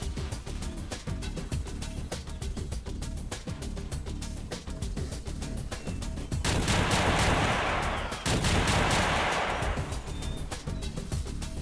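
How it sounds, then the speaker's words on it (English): Rapid bursts of laser gunfire in the XPiratez strategy game, dense repeating shots crackling continuously with a louder, brighter surge of fire midway, no talk over it. "Who's lighting me up with a laser?"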